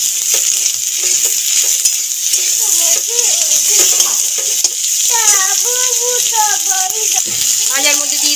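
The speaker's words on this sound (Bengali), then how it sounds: "আলুগুলো দিয়ে দেবো তেলের ভাজার মধ্যে।" Long-cut potato slices fry in oil left over from frying fish, giving a loud, steady sizzling hiss that runs throughout while voices talk over it.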